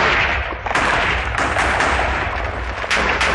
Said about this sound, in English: I love like just the aftermath of TNT explosions